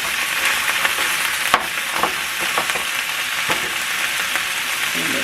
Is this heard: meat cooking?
yes